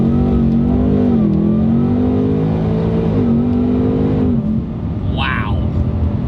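Supercharged 2024 Ford Mustang GT engine accelerating hard, a loud close droning roar rising and dipping through gear changes before easing off, with people talking over it.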